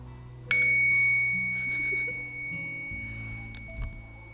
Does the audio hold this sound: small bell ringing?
yes